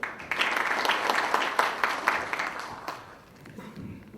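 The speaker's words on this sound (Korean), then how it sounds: "박수 맞아주십시오" A seated audience at a party officials' training event claps for an incoming speaker, a brisk burst of many hands that stays strong for about three seconds, then thins and tapers off quickly.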